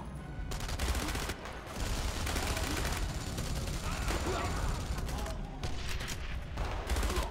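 Rapid gunfire from a weapon in the video game Enemy Front, dense sustained bursts with brief pauses, loud and close, with a voice talking over part of it.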